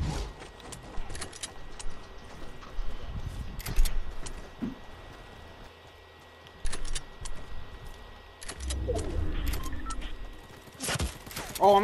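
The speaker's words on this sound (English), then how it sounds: "Oh, I'm getting shot from somewhere." Shooter video game gunfire: scattered sharp shots and short bursts across the clip over steady background noise, some near and loud, others fainter, with a rumbling stretch toward the end.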